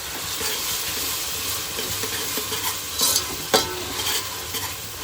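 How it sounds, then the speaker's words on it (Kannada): Ginger garlic paste frying with onions in a pan for chicken biryani, a steady close sizzle and hiss broken by the scrape and clatter of stirring throughout, with no one speaking. "ಇವಾಗ ಶುಂಠಿ ಬೆಳ್ಳುಳ್ಳಿ ಪೇಸ್ಟ್ ಹಾಕಿ ಚೆನ್ನಾಗಿ ಹಸಿಟ್ ಮೇಲೆ ಹೋಗೋವರೆಗೂ ಫ್ರೈ ಮಾಡ್ಕೊಂಡಿದ್ದೀವಿ"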